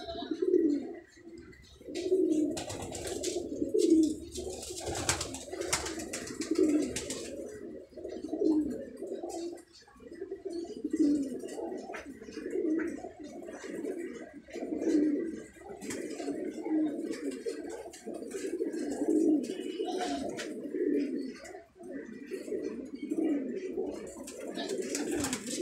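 A breeding pair of Teddy pigeons cooing, with repeated low throaty coos in rolling bursts close by, carrying on steadily over a faint background.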